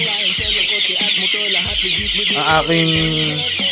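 Five-week-old chicks peep and cheep densely close by, a busy overlapping chorus of high chirps with a few lower clucking notes and rising calls throughout.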